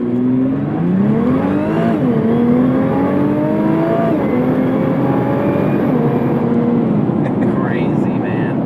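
A 2017 Nissan GT-R pulls hard at full throttle from a standstill, its engine note climbing steadily through repeated gear changes, loud and close from inside the cabin, with people talking over it.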